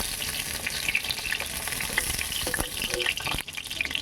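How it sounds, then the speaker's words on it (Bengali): Pointed gourd (potol) frying in hot oil, a dense steady sizzle with crackling spatters and the scrape of stirring, close and loud throughout with a brief dip near the end. "পটলগুলো আমার ভাজা হয়ে গেছে, তেল থেকে তুলে নিচ্ছি"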